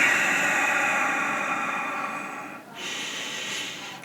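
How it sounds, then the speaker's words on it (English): Slow yogic exhalation out through the nose, a steady airy hiss lasting several seconds with a brief dip before the flow resumes, close and alone with no talking. "breathing out."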